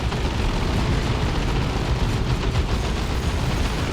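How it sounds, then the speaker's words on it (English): Artillery barrage in Warhammer 40,000: Dawn of War 2 in a Chaos Space Marines versus Ork battle, a dense, continuous roar of overlapping explosions rumbling loudly without a break. "There's a barrage, a double barrage."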